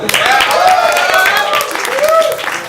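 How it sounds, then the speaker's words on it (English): A live comedy show audience cheers and claps loudly, a dense crowd roar with whoops and whistles rising and falling, filling the space at close range. "Give me a cheer if you're having a good time."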